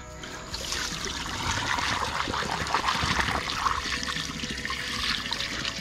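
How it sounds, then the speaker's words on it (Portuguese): Water is pulled up and drained from a rural well, a steady rushing, gurgling trickle that runs continuously at moderate loudness with no voices over it. "tô ligeiro agora pra puxar água, ó"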